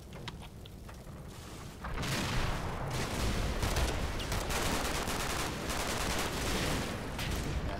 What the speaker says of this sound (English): So that Sten gun has been putting some oblique fire in on those guys through the gap in the hedge.